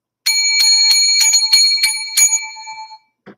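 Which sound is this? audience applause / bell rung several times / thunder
bell rung several times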